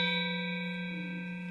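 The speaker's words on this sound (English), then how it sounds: "There are acoustic beats, so that gives it a special shimmering sound quality." Paired bronze keys of a Balinese gamelan, tuned slightly apart, ring out as one sustained metallic note whose beating gives a shimmering tone, decaying slowly with no talking.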